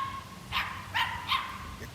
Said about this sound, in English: her little dogs are sitting barking at me because I'm on the swing